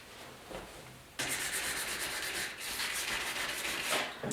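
Continuous abrasive sanding of a 1956 Ford pickup truck's roof, a quieter rubbing at first, then louder, steady back-and-forth scratching around the windows with no voices.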